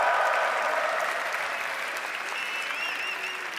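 A large crowd applauds loudly and continuously at the Redbull Londinium grand final, a dense wash of clapping that holds steady throughout.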